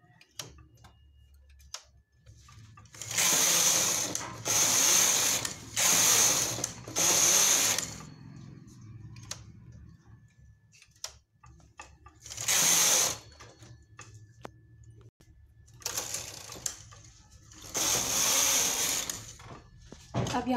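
A punch card knitting machine works a skirt, its carriage running in loud, rattling mechanical bursts of a second or so each, several in a row and then a couple more after quiet pauses.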